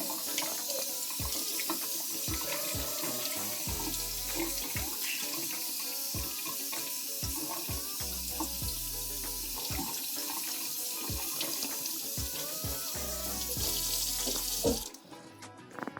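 A cleaned small trout rinsed under a running kitchen tap, a constant close rush of water with thumb-scraping taps and knocks against the sink, cutting off abruptly near the end.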